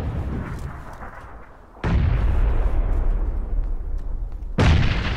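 Two heavy grenade blasts go off in the PUBG Battlegrounds shooter, each a loud, deep boom with a rumbling tail, the second about three seconds after the first.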